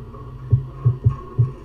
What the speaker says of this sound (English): Oh, I have to hear the heartbeat